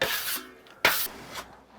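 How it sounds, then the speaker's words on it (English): Two slow, rasping strokes of a sanding sponge rubbing over rough drywall mud on a wall, close and fairly quiet. "That's what they make sanding sponges for."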